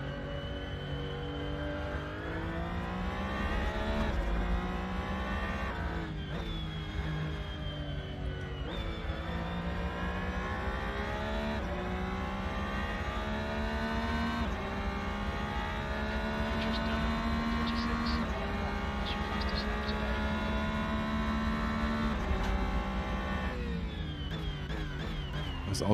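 A race car engine in the Assetto Corsa racing game drones loudly and steadily, repeatedly revving up through the gears and dropping back at shifts over a continuous sustained roar.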